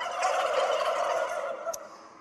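Dense clucking and gobbling of poultry fill a large poultry house on a bird-rearing farm, a continuous close chorus of many birds with no talk.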